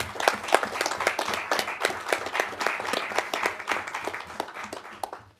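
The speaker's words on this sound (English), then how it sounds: "I'd like to offer Gary a round of applause" Council members in a meeting chamber give a round of applause, a steady patter of many hands clapping at close range for about five seconds before fading out.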